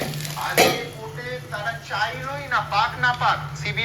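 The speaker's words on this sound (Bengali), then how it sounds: "আলু ভাজাটা হচ্ছে" Potato slices frying in a pan on a home kitchen stove, a soft sizzle with a sharp clink of utensil or lid early on, mostly under a woman's speech.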